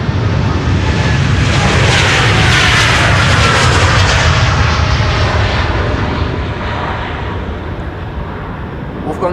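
A KLM jet airliner takes off from Amsterdam Schiphol's Polderbaan runway 36L, a loud, sustained engine roar that holds close and full before slowly fading as the plane climbs away.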